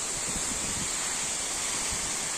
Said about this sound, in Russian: но водопад, конечно, огромный